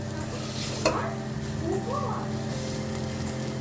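Flour and tomato paste frying in a pot for ezogelin soup, a soft steady sizzle with a sharp scrape of the spoon and light stirring sounds, close and fairly quiet.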